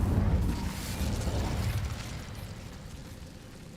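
An Incendio fire spell burst in a Harry Potter video game, a loud whooshing, rumbling blast at the start that slowly fades into a lingering roar.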